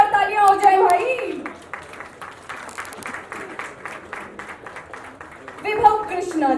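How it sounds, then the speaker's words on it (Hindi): Applause from the crowd at a film launch party rises as a steady burst of clapping between stretches of someone speaking over a microphone, moderately loud and continuous for several seconds. "इनके लिए जोरदार तालियां हो जाए भाई।"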